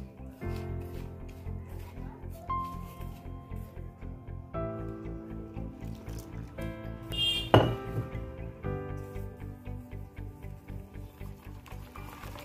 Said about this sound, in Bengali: এবার আমি বেসনটা গুলে নেব